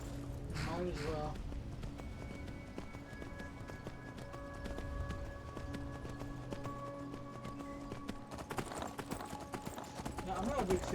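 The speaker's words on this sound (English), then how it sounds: "This time we're going to ride our horse." Horse hooves clip-clop in a steady galloping rhythm while riding in Skyrim, close and continuous, with a narrating voice over the game's music and ambience.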